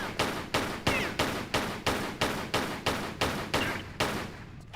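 Rapid regular gunfire in Tomb Raider III, about eleven evenly spaced shots in a steady rhythm, fairly loud and close, with no talking, as rats are shot at in London.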